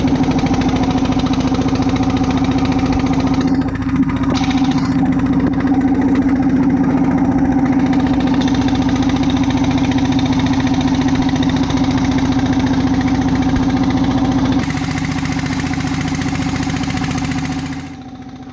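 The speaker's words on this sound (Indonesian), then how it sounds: "Mesin perahu menimbulkan suara yang tidak biasanya." An old motorboat engine running rough after rain let water in, giving off black smoke: a loud, steady, chugging drone that carries on unbroken for many seconds, then drops in level near the end.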